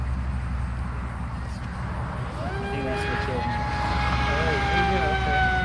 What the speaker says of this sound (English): I think I need to change the timing for this motor. It's not winding up.